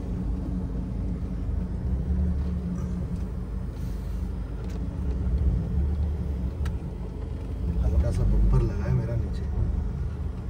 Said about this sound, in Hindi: अब यहाँ से गाड़ी हमें निकालनी है।